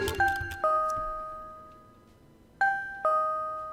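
Doorbell in The Silver Case video game chiming in two-tone ding-dong pairs, one pair at the start and another after a quiet gap, clear and ringing out.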